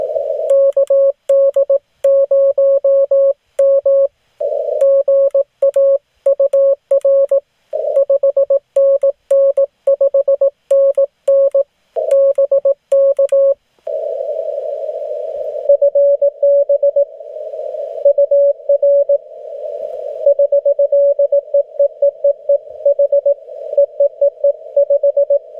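Morse code sent on a bug or cootie key and received over ham radio during a mobile POTA session, a steady tone keying rapid dits and dahs in irregular bursts, loud and clear, then running as a denser, continuous stream.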